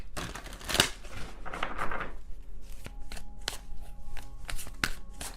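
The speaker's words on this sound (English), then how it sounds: "I can't shuffle this card that way" A deck of tarot cards is shuffled by hand, first a riffling burst of cards and then a series of sharp, separate taps and slaps as cards are set down, close and fairly quiet.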